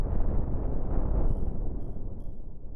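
A rumbling explosion in the space game Cosmoteer booms loudly at the start and fades into a lingering low roar, with faint high electronic tones near the end.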